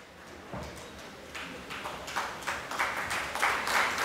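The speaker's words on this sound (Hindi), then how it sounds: "तालियों के साथ" An audience applauds at an award felicitation ceremony at Balbharti Pune, with a moderate, uneven patter of clapping that swells gradually over a few seconds.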